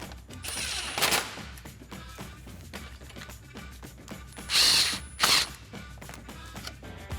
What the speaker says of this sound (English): And we can tighten that up with our 10mm socket.